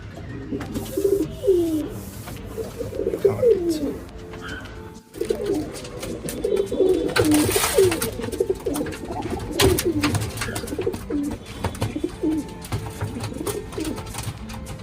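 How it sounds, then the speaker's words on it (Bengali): Hungry pigeons coo repeatedly inside a loft at feeding time, a continuous overlapping chorus of throaty calls at close range with some rustling and a brief gap midway. "সবগুলো ক্ষুধার্ত কবুতর"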